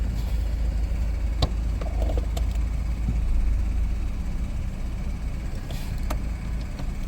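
A Ford Focus engine idles steadily after being brought back to life, a low continuous hum with a few faint clicks and no talking.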